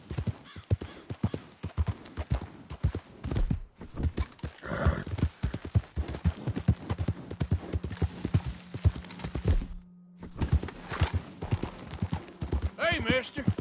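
Horse hooves clip-clop in a steady, close rhythm in the Red Dead Redemption 2 video game, with a brief whinny and a voice speaking over the footfalls.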